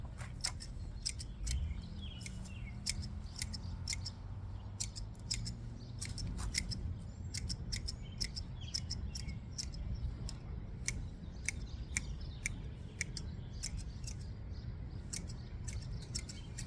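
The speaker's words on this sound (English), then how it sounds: "just doing a quick little trim just to make it look neat." Garden shears snip plants in a yard in a quick, steady series of crisp close cuts over a soft outdoor background, with no talk.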